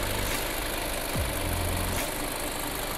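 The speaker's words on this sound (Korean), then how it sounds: "엔진 소리도 일정하네요" A Hyundai LF Sonata LPI engine idles steadily with a low, even rumble and no revving.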